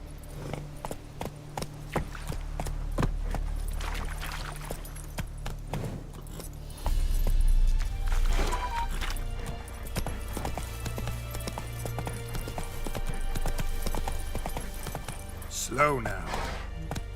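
Roach, the horse in The Witcher 3: Wild Hunt, gallops with steady, rhythmic clip-clop hoofbeats under game music and ambience, with a voice speaking briefly.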